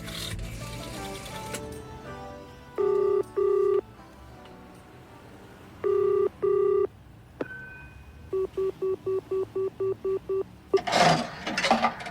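A telephone number dialed in a radio drama: several bursts of steady touch-tone beeps, then a rapid run of about ten short tones, with a brief rustle at the end and no voices.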